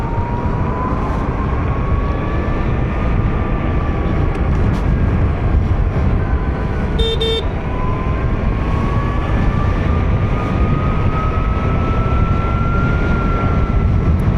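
A Vida VX2 Plus electric scooter accelerates in sports mode, its thin motor whine rising steadily in pitch over heavy, constant wind rush, briefly easing midway before climbing again.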